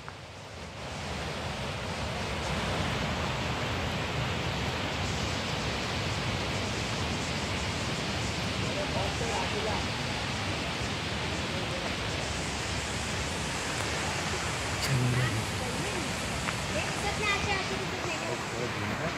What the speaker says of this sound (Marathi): पाण्याच्या आवाजावरच समजते पाणी केवढं आहे.